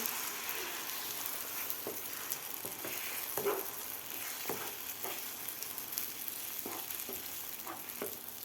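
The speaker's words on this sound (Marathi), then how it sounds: "आता व्यवस्थित आपल्याला हे हलवून घ्यायचं आहे" Beaten egg mixture for anda bhurji frying in a pan over medium gas, a soft, steady sizzle broken by scattered light spatula scrapes and taps as it is stirred, fairly faint throughout.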